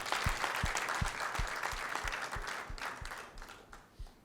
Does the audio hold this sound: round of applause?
yes